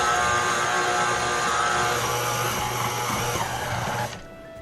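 Stand mixer kneading breadstick dough, a steady loud motor whir with a hum that stays constant and then drops away abruptly near the end.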